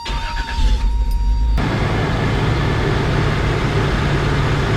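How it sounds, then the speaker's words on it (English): A pickup truck with a swapped 3.4 engine cranks briefly and catches, then settles into a steady, loud, rumbling idle that holds close to the microphone for several seconds with no talking. "So I'm gonna go ahead and start the vehicle, and let's see if it runs a little bit better than normal."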